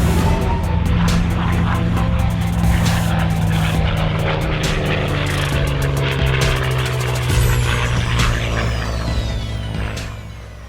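Restored propeller airplane flying at an air show, its loud engine drone and airscrew roar steady throughout, with a higher whine sweeping past midway and the sound easing slightly at the end.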